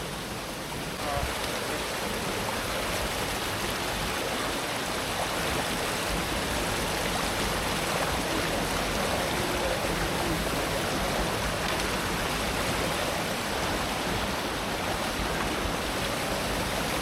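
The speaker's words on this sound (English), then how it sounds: "we've reached the river and this is the crossing." River water rushing steadily at a deep jungle trail crossing on the Dilushan Trail, a loud, continuous broadband flow with no breaks, close and unbroken throughout.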